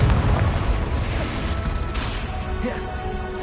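A Confringo blasting spell from Hogwarts Legacy goes off in a heavy rumbling boom that trails into a sustained crackling roar, with no clear pauses.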